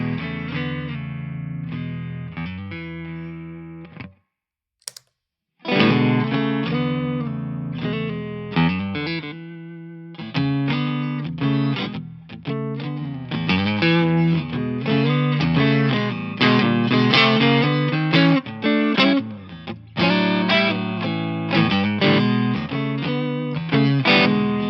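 Electric guitar played through a PRS Horsemeat transparent overdrive pedal with tone controls at noon, giving driven, harmonically rich chords and riffs, loud and close, with one brief pause near the start.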